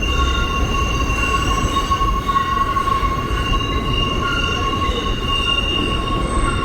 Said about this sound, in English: we're gonna hop on the 2 train now